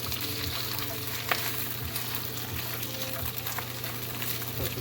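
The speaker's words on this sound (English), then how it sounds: "So now we're going to saute some spinach up." Spinach sautéing over fairly high heat in a hot pan, giving a steady close sizzle and hiss throughout with a few brief stirring clatters and a low hum underneath.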